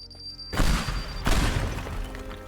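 Bombs go off in the destruction game Teardown, two loud booming blasts a fraction of a second apart, each bursting into crashing, shattering debris and a rumbling tail that trails away.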